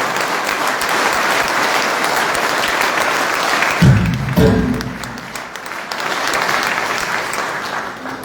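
A political rally crowd in Vagharshapat breaks into loud, sustained applause that fills the space, dips briefly midway amid a few louder bursts, then swells again into steady, dense clapping.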